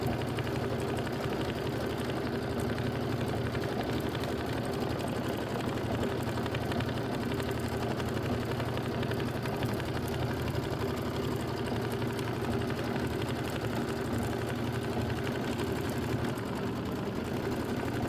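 A sewing machine runs steadily while stitching a wavy decorative stitch across a quilt, giving a continuous even mechanical whir with rapid ticking that never breaks, moderately loud and close.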